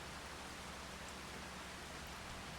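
Rain falls in Farming Simulator 25 as a soft, continuous hiss of drops on surfaces, steady and unbroken, with no one talking.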